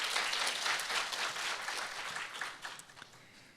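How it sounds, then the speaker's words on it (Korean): Audience applause welcoming a panelist at the Jeju Forum peace education session, a dense wash of many hands clapping that stays steady and fairly loud before thinning slightly toward the end. "박수로 환영하겠습니다."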